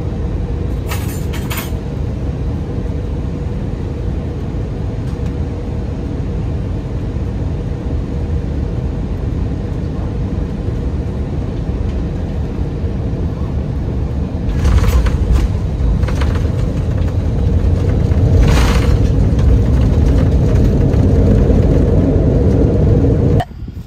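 Passenger jet landing on a flight to California, a loud continuous low cabin roar throughout with a heavier rumble and brief rattling near the end as the aircraft touches down.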